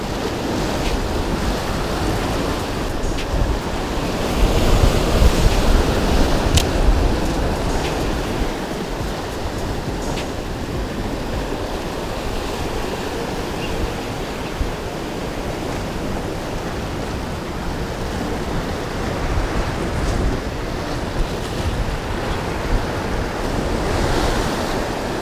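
Wind buffets the microphone over steady surf and breaking ocean waves at an Azorean seaside fishing spot. The noise is continuous and broadband, with a louder gust around five seconds and no talk.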